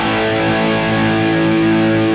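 An electric guitar plays through overdrive distortion with the volume pedal rolled back, giving a sustained, saturated buzzing chord that holds steady and loud with no talking.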